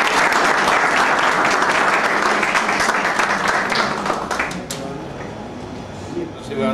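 An audience at a music-video collectors' event in Bogotá applauds loudly, a thick burst of clapping that thins out and fades near the end as a voice begins to speak.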